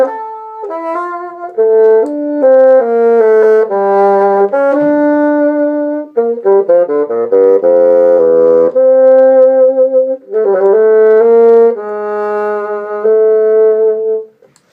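Solo bassoon playing a phrase from Weissenborn study No. 21, a legato melodic line leaping between high and low notes, loud and close with brief breaths between groups of notes.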